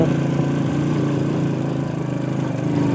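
A motorcycle engine labors steadily up a hill road through a green, tree-lined village area, a continuous near drone with no talk over it.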